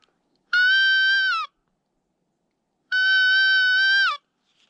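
Two drawn-out, nasal bleats from a hand-blown elk cow call used for deer hunting, each lasting about a second with a slight downward bend at the end, separated by a clean silent gap.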